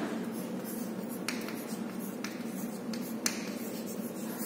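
Pen writing on paper during an algebra lesson produces faint, soft scratching with a few sharp little taps, close and quiet over a steady background hiss, with no talking.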